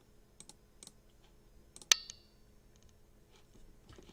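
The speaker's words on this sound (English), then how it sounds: "So we're going to go ahead and type that in." Scattered key clicks from a computer keyboard, quiet and intermittent, with one louder sharp tap midway and no talking.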